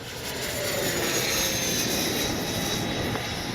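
An 80mm ducted-fan radio-controlled model jet, an F-86, roars steadily overhead, a sustained high whine over broadband rushing noise, loud and continuous with no voices.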